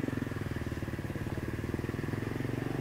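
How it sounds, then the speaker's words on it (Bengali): A motorcycle engine runs close by at a steady, pulsing idle-like throb as a learner gives throttle and eases out the clutch, with no voices. "এক অ্যাক্সেলেটার দেন, 2 ক্লাচ ছাড়ুন"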